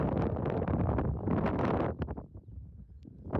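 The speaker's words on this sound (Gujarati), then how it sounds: "પવન સુસવાટા નાખે" Strong wind roars across a high hilltop ridge, buffeting the microphone in loud, continuous gusts that ease off briefly before rising again.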